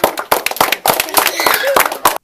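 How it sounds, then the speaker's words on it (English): A group claps for themselves in a loud, uneven burst of close, sharp handclaps that thins out and stops abruptly, with voices mixed in. "Everybody give yourselves a hand."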